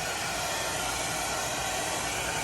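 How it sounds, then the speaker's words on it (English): A small, underpowered home hair dryer runs on its warm setting at full speed, giving a steady, even airy roar that carries unchanged for the whole stretch with no talking over it. "This is as high as this dryer goes."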